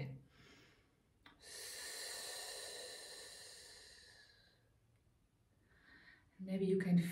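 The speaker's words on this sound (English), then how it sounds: "on your exhales, you can do the S again" Breathing exercise for singing, with a long, steady hissing S sound on the exhale that lasts several seconds, soft and close, followed by a voice speaking.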